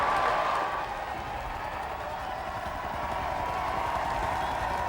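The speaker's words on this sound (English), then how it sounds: "a big crowd surging across Whitehall to his car, with the police trying to hold them back" A big crowd on Whitehall cheers and applauds as Tony Blair's car arrives, with police holding people back. The sound is a dense, steady roar of voices and clapping from a large gathering, loud and continuous throughout.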